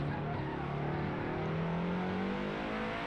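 A Lotus race car engine in the Assetto Corsa racing game rises steadily in pitch as it accelerates, a continuous high whine heard on its own without speech.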